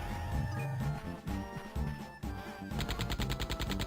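Rapid bursts of video game gunfire crackle loudly over a busy, music-laden game soundtrack, with dense repeated shots toward the end.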